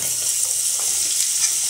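Bitter gourd added straight into hot oil, a steady bright hissing sizzle with light stirring, no speech.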